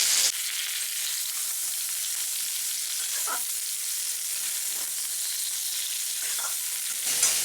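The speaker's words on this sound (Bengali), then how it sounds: "একটু ভাজা ভাজা করে নেব" Young jackfruit, already boiled with turmeric, sizzles steadily in a kadai while it is lightly stirred, with a few soft scraping strokes.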